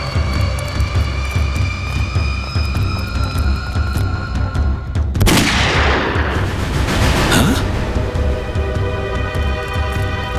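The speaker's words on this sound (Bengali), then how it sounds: "গুলি চলার শব্দ।" Gunfire cracks out as one sharp, loud blast midway that trails into a rumbling decay, set against a steady droning engine hum that runs throughout.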